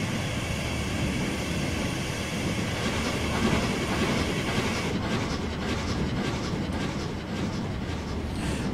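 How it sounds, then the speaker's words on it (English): An American train running on the tracks of a model railway route in Train Simulator 2016, a steady rolling rumble with faint rhythmic clicking of wheels over rail joints, continuous and fairly close throughout. "Nothing wrong with driving an American train on this route."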